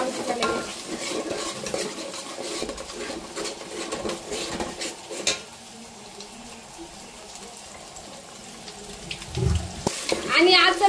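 Freshly ground masala with curry leaves frying and being stirred in a pan for amti, with sizzling and scraping, some water running, and a voice speaking over it.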